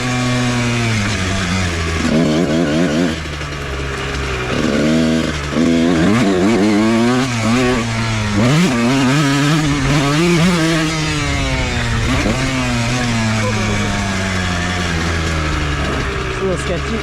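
A motorcycle ridden on a track runs loud and close, its engine note rising and falling through repeated revs and shifts while a rider talks over it.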